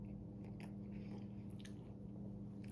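Someone bites and chews a fried pickle Whopper burger with crunchy lettuce, making faint, close, repeated crunching bites and soft chewing over a low steady hum, with no talking.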